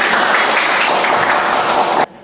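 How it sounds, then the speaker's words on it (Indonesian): Classroom students clap for a group called up to present, a dense, steady burst of many hands that cuts off abruptly near the end. "Tepuk tangan untuk kelompoknya."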